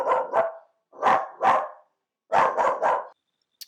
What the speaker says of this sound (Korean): 짖는구나.